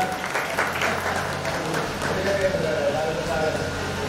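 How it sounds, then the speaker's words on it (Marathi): An audience applauds an internationally known tabla player at a devotional kirtan gathering, a steady dense clapping that goes on throughout with some voices mixed in. "त्यांच्यासाठी जोरदार टाळ्या होत्या"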